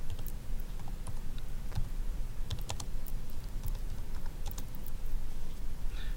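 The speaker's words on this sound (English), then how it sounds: "And I can just type back." Computer keyboard typing in an office software setting, a steady run of light, irregular key clicks close up over a constant low background hum, with no voices.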